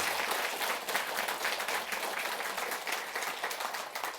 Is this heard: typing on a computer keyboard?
no